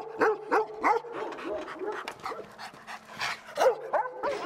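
A Tibetan mastiff at a high-altitude kennel barks in loud, close bursts, lunging in an attack, with sharp barks and yips spaced irregularly over a few seconds.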